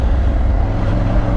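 A Triumph Tiger 900 Rally Pro motorcycle engine gives off a loud, steady low rumble at low revs, a brief unbroken burst heard up close.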